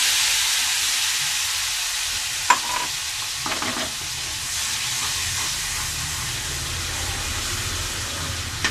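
Tomato paste sizzles steadily in hot oil in a pan, with a constant bright hiss and a few brief clinks and scrapes of stirring, and no talking.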